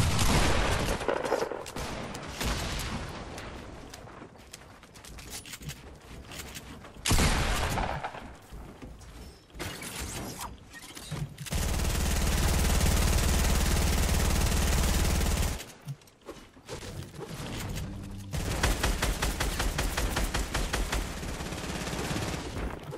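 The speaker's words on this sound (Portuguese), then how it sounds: "Os outros caras lá do outro lado tá atirando na gente." Enemy gunfire crackles in the battle royale game Fortnite, with bursts of rapid shots, stretches of sustained automatic fire and a deep rumbling passage midway, loud and busy across the whole span with no talking.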